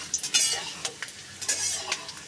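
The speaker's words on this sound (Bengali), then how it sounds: "বাদামটা একটুখানি ভাজবো, ভেজে নামিয়ে নেব" Peanuts fry in oil in a wok as a spatula stirs them, a brief close burst of sizzling with several quick scraping strokes and light clatters.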